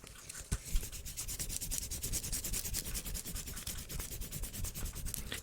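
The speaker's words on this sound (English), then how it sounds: "I'm like writing on paper and wiping it off" Writing on paper is wiped off with rapid back-and-forth rubbing strokes, close up and steady, in a quiet ASMR setting.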